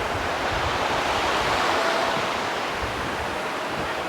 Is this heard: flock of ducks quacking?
no